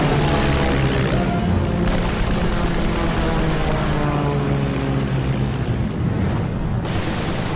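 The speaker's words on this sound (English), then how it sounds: "McCudden pitches over into a dive to make a lightning-quick attack run" A WWI fighter plane diving into an attack run, its propeller engine a loud, steady droning roar that holds throughout with shifting harmonic tones and no voices.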